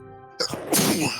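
A single sneeze bursts out loud and close after a sustained steady tone, followed by a brief rustle, heard alone without talk during a tabletop role-playing game session.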